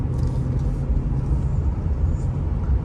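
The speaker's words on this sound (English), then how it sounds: "even the sounds that this engine makes and this transmission makes, and just kind of the simple hum of both" A 1996 Lincoln Town Car Signature's engine and transmission hum while it drives, a steady low rumble heard from inside the cabin with a continuous even drone.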